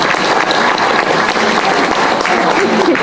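Concert audience breaking into a quick, steady round of applause, dense clapping from a crowd filling the room at a constant loud level with a few voices mixed in.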